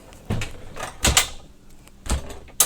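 Pocket door in a 2020 Cornerstone 45B motorhome, sliding and latching with several sharp clicks and knocks spaced about a second apart, close and clear with no talk.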